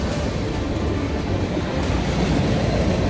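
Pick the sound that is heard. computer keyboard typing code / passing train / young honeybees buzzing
passing train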